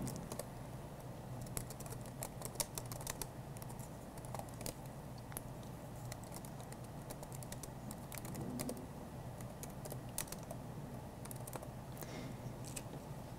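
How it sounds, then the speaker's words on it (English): Keys on a computer keyboard clatter in quick, uneven bursts of typing, close and steady but fairly quiet over a faint background hum, with no talking. "we'll type the invitation information"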